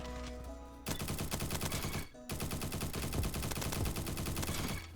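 Rapid assault rifle fire from the Roblox game Bad Business rattles in two long, dense automatic bursts separated by a brief pause, loud and close, with the shots preceded by a short lower tone.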